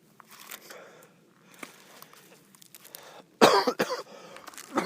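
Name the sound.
coughing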